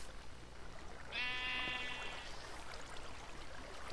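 A sheep bleats once in Minecraft, a single wavering, clear bleat near the start that trails off over about a second, standing out above a low ambient rumble with no talking.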